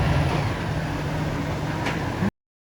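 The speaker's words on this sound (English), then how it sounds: "That engine sounds brilliant." Steady bus engine rumble with a constant low drone and hiss, heard from inside the bus, cutting off abruptly after about two seconds.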